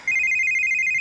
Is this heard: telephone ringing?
yes